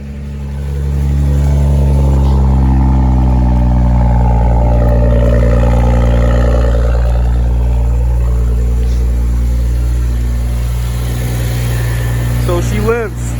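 A BMW 135i, rebuilt after being totaled, idles steadily after starting, a loud, close engine drone with a slight rev rise; a person talks over it briefly.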